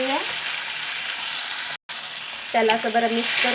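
Onion, garlic, tomato and green chili frying and being stirred in a pan, a close sizzling hiss with scraping, briefly cut off, then resuming as a voice speaks over it.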